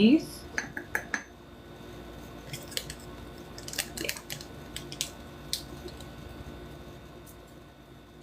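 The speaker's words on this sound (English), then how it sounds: "we do a rounded teaspoon of yeast." Metal measuring spoon scooping yeast for a bread machine, with light scraping and several sharp clinks and taps at an irregular pace in a quiet room.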